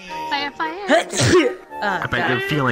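A single sneeze bursts out in the middle of animated, cartoonish talk from voices on either side of it.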